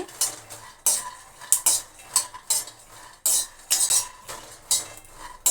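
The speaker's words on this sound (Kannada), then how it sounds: "ಶೇಂಗಾ ಬೀಜ ಹಾಕ್ಕೊತಾ ಇದ್ದೀನಿ ಕಡಲೆ ಬೀಜ ಹುರ್ಕೋಬೇಕು ಸಣ್ಣ ಉರಿಲಿ ಹುರ್ಕೋಬೇಕು" Peanuts being dry-roasted in a hot pan over a low flame, stirred with a metal spoon, giving repeated scraping and rattling strokes at an uneven rhythm, close and fairly loud with no talking.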